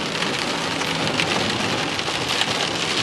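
Heavy storm rain pounding steadily on a car while it drives through a flooded street in Rochester, NY, a loud continuous wash of drops and splashing water with no voices.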